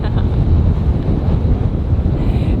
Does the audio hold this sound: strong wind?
yes